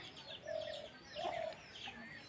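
A spotted dove gives two soft, low coos in close succession at a moderate distance, faint against a quiet outdoor background with light chirps.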